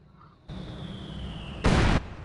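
A short, heavy blast from mortar or artillery fire in the war video game Company of Heroes 2, a single loud burst rising out of a low battlefield rumble with a faint whine beneath.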